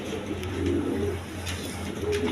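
A male red Gola pigeon calls in a soft low coo, near and steady, lasting briefly over a faint hum.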